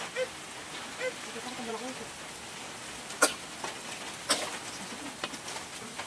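Heavy rain patters steadily throughout, with a couple of sharp knocks or clicks standing out above the wash.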